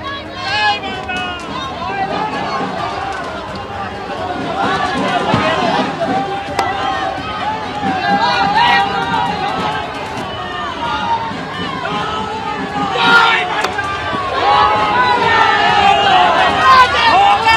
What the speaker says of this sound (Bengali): পরাজিত হওয়ার পর বিজেপি প্রার্থীকে ঘিরে জয় বাংলা স্লোগান